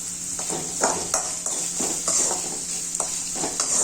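Chopped onions frying with salt in a pan for a Karnataka bassaru and greens palya, a steady close sizzle broken by regular scraping stirs of a spoon, with no talking.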